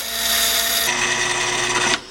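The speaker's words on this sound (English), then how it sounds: "I've got the drill press adjusted so that the speed is at the minimum." Drill press running at its minimum speed while tapping a thread: a steady, loud, close mechanical whir with a constant motor hum, shifting slightly in tone partway through, then cutting off near the end.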